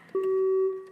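A contestant's buzzer at a national math quiz competition sounds once, a single steady electronic tone lasting about half a second, loud and close.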